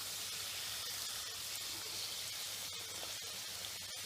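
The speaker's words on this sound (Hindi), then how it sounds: "गुजिया तलने के लिए हमको मीडियम आंच पर तलना है।" Gujiyas, filled pastries made from besan puri dough, fry in hot oil over a medium flame, giving a steady, even sizzle with occasional soft pops and no talking.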